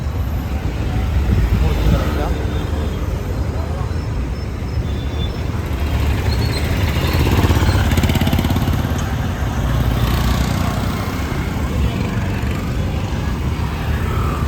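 Dense traffic on a busy city road in Thiruvananthapuram makes a steady, loud roar of engines and tires without a break.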